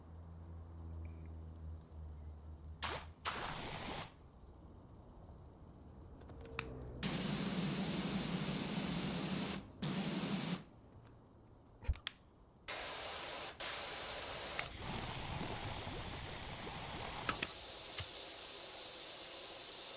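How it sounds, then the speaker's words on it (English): Foam hissing from a pressure washer nozzle in a power washing video game, repeated bursts of loud broad spray, some long and some short, separated by quiet gaps. "Guess this was a foam we sprayed on or something"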